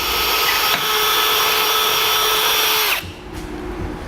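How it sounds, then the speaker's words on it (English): A power drill with a pilot bit bores through a vehicle's front bumper core on a 2015 Chevrolet, a loud, close, steady whine that stops abruptly near the end, leaving quieter background hum. "a pilot bit, going all the way through this bumper core."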